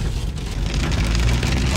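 Steady rain drumming on a car roof and windshield while driving, a dense, loud, continuous wash of patter with a low road rumble underneath and no talking.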